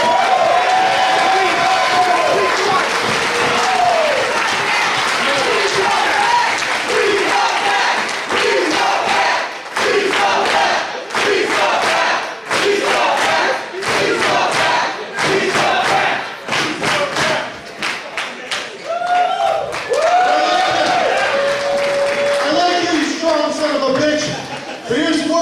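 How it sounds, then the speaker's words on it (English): A wrestling crowd at a Beyond Wrestling show cheers, shouts and claps loudly and continuously, with scattered thuds and yells and voices talking over the din. "Give this fucking guy a round of applause"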